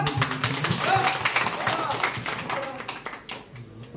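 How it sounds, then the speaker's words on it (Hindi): A crowd breaks into clapping for a man at a Bhojpuri film pack-up event, a quick patter of hand claps mixed with talking voices. "तो हम चाहेंगे रोशन सर के लिए एक बार जोरदार तालियां"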